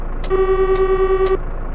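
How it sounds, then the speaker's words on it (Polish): A truck horn in the video game Euro Truck Simulator 2 sounds on an Italian V8 truck, one steady loud tone lasting about a second with a sharp start and stop, over quiet engine idle. "sprawdźmy jaki tu jest klakson"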